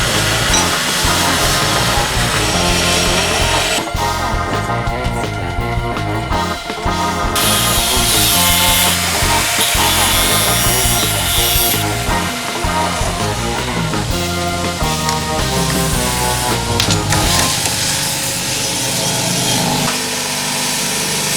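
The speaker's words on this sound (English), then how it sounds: "get the knife out there, let it cool down and grind it to shape." A forged knife blade ground to shape on a power grinder: a continuous, loud, dense abrasive whine with shifting tone that runs throughout with no speech.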